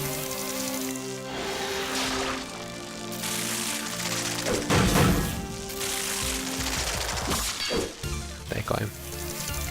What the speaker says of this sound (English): I'm getting shot in the back by these annoying bee things.